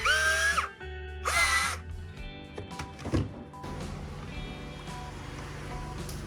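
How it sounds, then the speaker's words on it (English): A powered screwdriver removing sturdy hexagonal screws from a speaker, two short whirring bursts at the start, followed by quieter clicks, handling noise and a low background hum. "I will use a screwdriver to remove it. This speaker uses a set of quite sturdy hexagonal screws."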